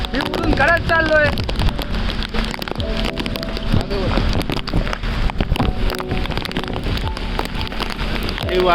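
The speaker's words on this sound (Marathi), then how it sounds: "हे वाऱ्याचं तुफान आपण पाहू शकता." Heavy monsoon rain pounds surfaces on a flooded street in Nalasopara while stormy gusts roar, a loud, continuous downpour with a voice speaking over it.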